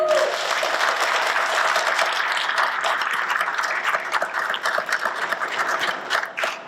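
A school committee meeting audience applauds district students, with sustained, fairly loud clapping from a room of people that continues evenly and thins near the end.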